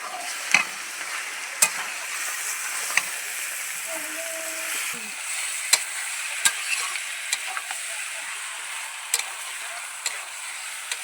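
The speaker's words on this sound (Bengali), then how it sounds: "মশলাটা নাড়াচাড়া করার পর আমি মাংসগুলো দিয়ে দিচ্ছি।" Pieces of desi chicken frying in turmeric and chilli spice paste in a village kitchen, a steady broadband sizzle with scattered sharp crackles and spatula scrapes throughout, close and fairly quiet.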